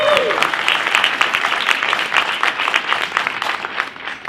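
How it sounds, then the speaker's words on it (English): A lecture audience claps in a continuous, dense round of applause, moderately loud and sustained throughout without speech. "let's give that a round of applause"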